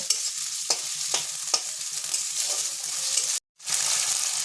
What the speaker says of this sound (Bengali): আমি পেঁয়াজের সাথে ভালোভাবে আদা রসুন বাটা আর পেঁয়াজটা আরও একটু ভালো করে কষিয়ে নেব